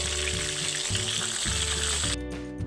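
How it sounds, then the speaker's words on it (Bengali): Pointed gourd (potol) frying in hot oil with salt and turmeric, a loud, steady close sizzle and crackle with faint stirring, no voices. "পটলে এখন লবণ আর হলুদ দিয়ে দিচ্ছি, দিয়ে পটলগুলোকে ভালো করে ভাজতে হবে"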